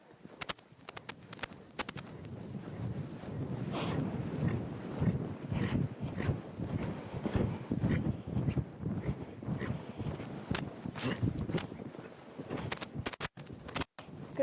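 A horse canters over ground poles in an arena, its hoofbeats a continuous rhythmic thudding that grows and carries on at moderate loudness, with no talk over it.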